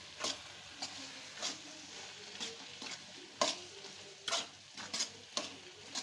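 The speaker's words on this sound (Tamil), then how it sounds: "இதை ஒரு பெரட்டி விட்டுறலாம்." Spices such as turmeric and chilli powder stirred and frying in a pan for tomato kulambu, a steady faint sizzle broken by about a dozen scraping strokes of a spoon at irregular intervals.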